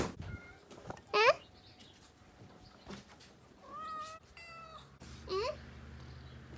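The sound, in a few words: hungry cat meowing for food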